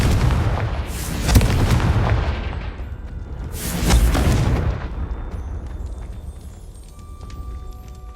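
Hogwarts Legacy video game Confringo spell blasts go off as two heavy booming explosions a few seconds apart, each with a rumbling decay, followed by quieter game sounds.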